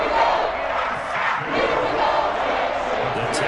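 A football stadium crowd at a Texans vs Jets game roaring after an interception, a loud, sustained wash of cheering and shouting that swells and holds throughout.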